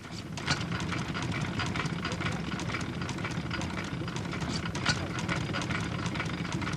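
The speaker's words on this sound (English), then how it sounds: "this is a 2 horsepower Massey Harris No. 1 petrol engine" A 1916 Massey Harris No. 1 two horsepower petrol engine runs with a rapid, steady mechanical chatter and knocking, continuous and fairly loud, while someone talks over it.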